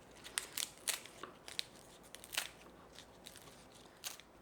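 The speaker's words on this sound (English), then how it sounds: "I'm going to use my scissors and chop that up into smaller pieces" Kitchen scissors shred crisp lettuce for shrimp tacos, giving a quick, irregular run of crunchy snips and crackles close to the mic, with no talking.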